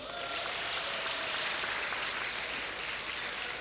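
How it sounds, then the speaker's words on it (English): An audience applauds a guest at a university lecture event on examinations, a steady broadband wash of clapping that holds evenly through the whole stretch, with faint voices mixed in. "Please let's give him a round of applause."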